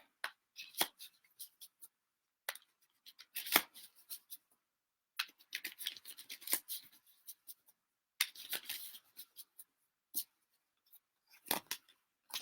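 Tarot cards being shuffled by hand in irregular bursts of crisp riffling and tapping, close and fairly quiet, separated by short silences.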